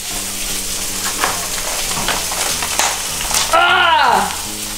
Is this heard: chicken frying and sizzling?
yes